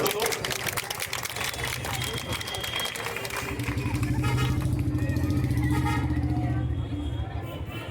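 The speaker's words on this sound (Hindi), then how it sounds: "एक बार बेटा जोरदार ताली लगा दो लोग" Loud, sustained applause at a school event run by the Ideal Education Society in Kamarhati, steady throughout and swelling slightly midway, with voices audible over the clapping.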